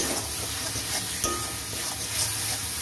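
Turmeric and onions stir-fry in a pan with a steady hissing sizzle, broken by repeated soft scrapes and taps as the mixture is tossed and stirred close by.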